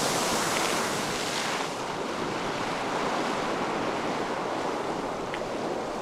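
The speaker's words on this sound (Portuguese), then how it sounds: "Aqui em cima a gente encontrou esse geyser, se chama Strokkur" Iceland's Strokkur geyser erupts with a continuous loud, roaring rush of water and steam, a broad steady whoosh mixed with wind buffeting outdoors.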